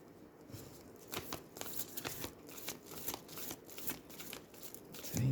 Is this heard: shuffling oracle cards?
yes